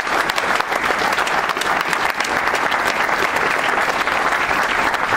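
Crowd at a West Virginia University Big 12 welcome celebration in Morgantown breaking into sustained applause, dense and even clapping throughout with no voices on top.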